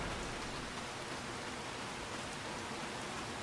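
Steady, even rain hiss in the video game Farming Simulator 25 fills the clip, a constant soft wash of falling rain with no voices.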